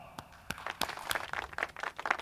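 A panel audience claps for a speaker, scattered and fairly light applause with uneven bursts, heard alone and moderately close.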